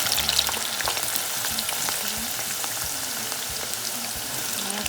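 French fries fry in hot oil with a dense, continuous sizzle and scattered small pops, close and steady throughout, with no talking.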